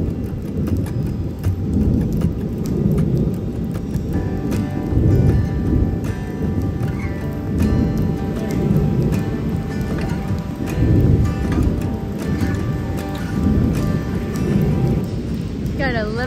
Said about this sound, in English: A bit of rain now,